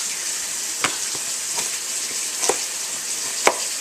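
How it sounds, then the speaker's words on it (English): Chicken browning in a pan with pepper gives a steady, close frying sizzle with a few soft stirring clicks and scrapes, and nobody speaks. "add lots of pepper to that chicken while it's browning"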